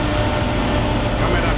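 A Voith Maxima 40 CC diesel locomotive in Train Simulator Classic gives a loud, steady, close engine and rail rumble that stays even and continuous from start to finish.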